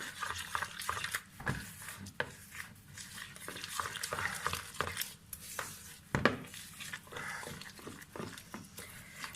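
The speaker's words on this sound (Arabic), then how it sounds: "كوبايه من الدقيق واقلبها" A cup of flour stirred into a dough mixture in a bowl, giving faint, irregular scraping and soft knocking strokes, close by and quiet, with no talk.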